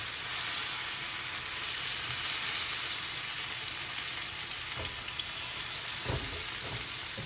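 Chicken sizzling in a hot pan for stuffed poblano peppers, a steady broad hiss that holds throughout with a few brief clinks and knocks near the end; no one speaks.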